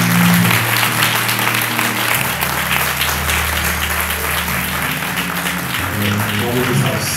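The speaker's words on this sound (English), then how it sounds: "Come on, say God again, clap of praise." A church congregation claps in praise, a thick, steady wash of hand-clapping throughout, with low sustained instrumental tones underneath.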